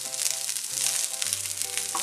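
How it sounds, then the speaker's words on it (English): Small pieces of broccoli sizzle and fry steadily in a pan, with a constant crackling hiss and no voices. "after it's been frying for a couple of minutes"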